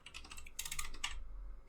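Rapid keystrokes on a computer keyboard while file names are typed out, a quick close clatter of clicks running steadily with no talk.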